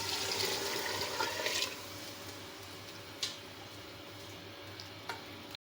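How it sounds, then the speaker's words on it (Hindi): Water poured into a pot of browned chana pulao mixture, a steady rushing splash that runs for almost two seconds and then fades, followed by a few small clicks and knocks in a quiet kitchen. "अब इसमें डालेंगे पानी।"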